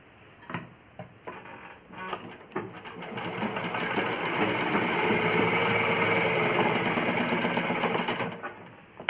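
A sewing machine stitches a child's umbrella frock, starting with a few short bursts and ticks, then a long continuous close rattling run before slowing and stopping.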